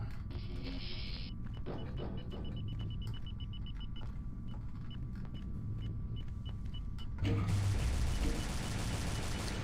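Automatic turret fire in the Aliens Eradication Doom total conversion game, with loud rapid rattling bursts over a constant rumbling ambience, growing harsher and denser near the end.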